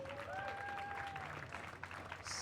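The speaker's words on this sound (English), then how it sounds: "If y'all can give him a big round of applause." Audience applause for a 69-year-old racer at the 2019 Worlds, a steady wash of clapping throughout with a brief whistle-like tone over it.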